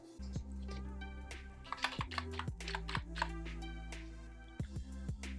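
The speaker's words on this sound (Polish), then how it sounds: "Klikamy na klawisz, otwiera nam się okno" Several sharp computer key clicks in an irregular sequence over a low steady hum, some clustered close together, with no talking.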